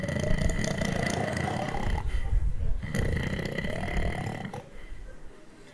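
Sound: person imitating loud snoring

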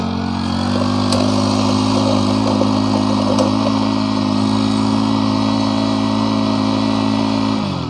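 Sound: small engine soil tiller running and revving

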